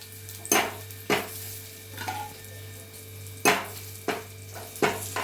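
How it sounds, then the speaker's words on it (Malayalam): Hot oil with fried mustard seeds poured over chilli powder in a bowl while making ash gourd moru curry gives a few sharp sizzling bursts and clinks at intervals, close up, over a steady low hum. "ഇനി ഇപ്പോൾ ഈ കടുക് വറുത്തത് ഞാൻ ഈ പാത്രത്തിലോട്ട് ഈ മുളക് പൊടിക്കകത്തോട്ട് ഇടുക."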